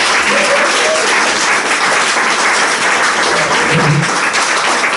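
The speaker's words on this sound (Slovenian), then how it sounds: "Jaz mislim, da si je Peter zaslužil en velik aplavz." Sustained, dense applause from a seated audience at a talk held in a Russian dacha in Zgornje Gameljne, steady and close with no voices over it.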